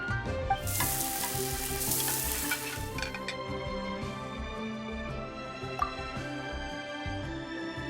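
Crabs frying and sizzling in a pan in the game Genshin Impact, a loud bright hiss swelling early then settling into steady sizzle under soft game music.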